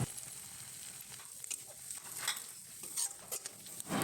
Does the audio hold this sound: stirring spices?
yes